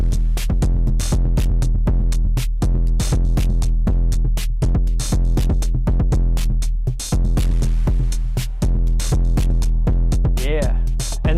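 Arturia Drumbrute Impact analog drum machine playing a steady, dense beat with punchy kicks and crisp hits, widened by stereo spread effects, loud and continuous throughout.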